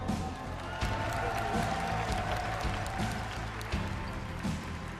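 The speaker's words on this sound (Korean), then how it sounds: "울고 있는 우리 우승자 강민 선수에게 여러분 마지막으로 큰 박수 부탁드립니다" Audience at a StarCraft StarLeague 2016 final applauding the tearful champion, steady dense clapping from a crowd in an arena, heard under an announcer's voice.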